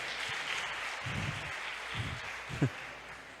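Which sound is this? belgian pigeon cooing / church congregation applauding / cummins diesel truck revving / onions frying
church congregation applauding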